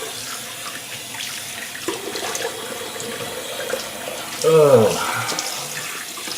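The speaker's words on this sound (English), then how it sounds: "let's do a quick cold rinse" Tap water running into a sink for a cold rinse after shaving, a steady soft wash of flowing water with splashing as hands cup it near the end, and a brief voice exclamation.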